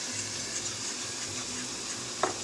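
Scrambled eggs being stirred in a hot buttered pan while making chicken fried rice: a steady, moderate sizzle with soft scraping of the utensil and one brief clink near the end, no talking.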